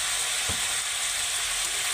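Ground cumin and turmeric go into garlic and meat frying in a pan, producing a continuous close sizzle with a brief low knock near the start and no speech.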